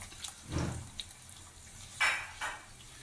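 Yogurt being stirred into spices in a cooking pan for palak paneer, giving a few soft, close scraping and clinking strokes of a spoon against the pan, with quiet gaps between them.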